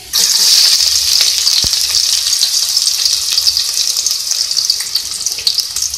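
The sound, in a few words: onions added to hot oil and frying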